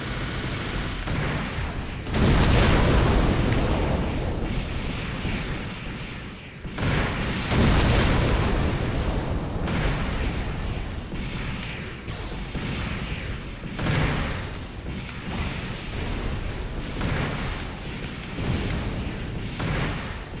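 Missiles exploding in an aerial combat video game with the ADFX-02 aircraft, repeated loud booming blasts rolling over one another in a continuous barrage.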